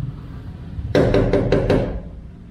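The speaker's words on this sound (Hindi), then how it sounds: "मैं नॉक कर रहा हूँ" Knocking on a door in an empty, deserted building in Bangkok: five sharp, evenly spaced raps in quick succession, close and loud against a quiet hum.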